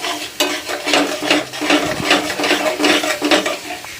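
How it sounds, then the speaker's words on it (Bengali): Boiled potatoes being stirred and fried in a pan, with steady scraping and clinking of a utensil against the pan in repeated strokes over a light sizzle, close and fairly loud, no talking. "যে আলু ভাতে দিয়ে এখন একটু ভাজাভাজি চলছে।"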